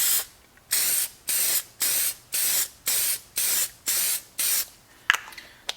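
A spray can lays a second coat of paint onto car gauges: about nine even bursts of hissing spray, each lasting roughly half a second with short gaps, close and loud, ending with a few faint clicks.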